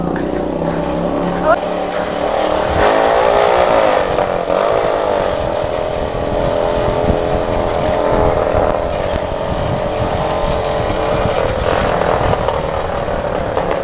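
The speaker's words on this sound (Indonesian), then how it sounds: "Di belakang ada motor." A chopper-style motorcycle engine runs close by with a continuous throaty drone and rising revs, while people talk over it throughout.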